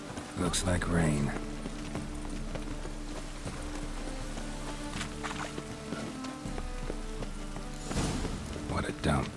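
Steady rain falls in The Witcher 3 as a constant hiss of drops on surfaces, with brief clops and bumps at the start and near the end.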